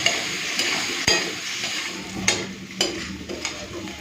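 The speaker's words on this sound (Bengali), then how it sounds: "মশলাটাকে একটুখানি আলুর সাথে ভালো করে ভেজে নিই" Potatoes frying with spices, including Kashmiri chili powder, in a pan for a koi fish curry: a continuous close sizzle broken by a few sharp clanks and scrapes of a stirring utensil against the pan.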